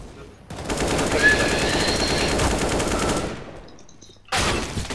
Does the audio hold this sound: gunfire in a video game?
yes